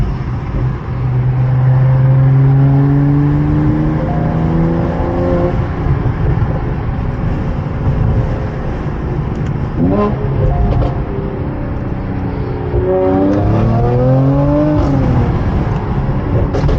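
A 2022 Mercedes-Benz E53 AMG fitted with a catless downpipe, heard from inside while driving: loud, steady engine and exhaust drone with rising and falling revs through gear changes and a sharp throttle blip partway through.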